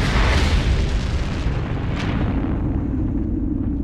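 A supernova explosion sound effect: a deep, heavy boom rolls out and slowly fades, a low rumbling blast with a brief whooshing swell partway through.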